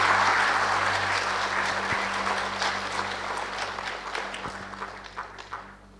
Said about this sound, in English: Can you give a round of applause to your professors,